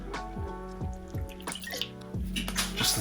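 Light soy sauce poured into a sauce mix with oyster sauce and black vinegar, a short liquid trickle and drip alone close by, with kitchen clatter.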